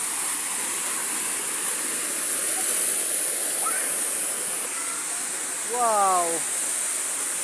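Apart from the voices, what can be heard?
Busay waterfall rushing water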